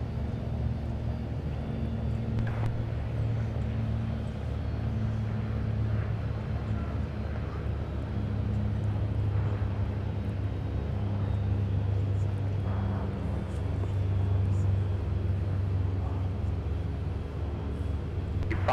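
GE90 jet engines on an airliner departing runway 30 left at Minneapolis airport make a steady, low, droning roar from a distance that holds throughout, with no voices over it.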